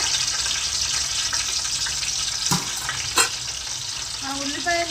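Chopped green chillies crackle and sizzle steadily in hot oil in a pan, close and continuous, with a few sharp pops and stirring clatters near the end.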